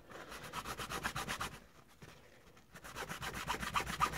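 A Swan SW1248M fountain pen comb being lapped with toothpaste, soft rhythmic back-and-forth rubbing strokes, quiet and close, pausing briefly midway before resuming.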